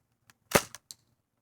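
A Daisy 74 CO2-powered BB gun fires a single sharp, close shot, preceded by a faint tick and followed by two short clicking echoes, then silence.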